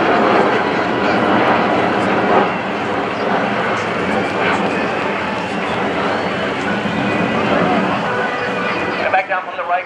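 Military jets of the Warrior Flight Team perform air combat maneuvers at the 2015 NAS Oceana Airshow, a loud continuous engine roar that fills the whole stretch while an announcer talks over it.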